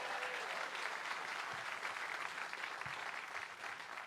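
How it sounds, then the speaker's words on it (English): Audience applause for the sound engineer at a Friday night live show, a dense, continuous crowd clapping sustained for several seconds at a steady level. "Big round of applause for Nathan Smith,"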